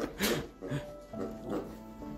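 A dog excitedly playing with a new toy, giving short whimpers and yips while people talk nearby.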